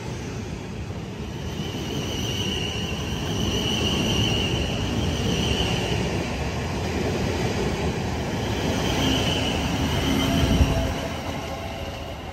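Bakerloo line underground train in a railway simulator game pulling away from a platform, a steady loud rumble of wheels and motors with faint high squealing that swells slightly midway, alone with no talk.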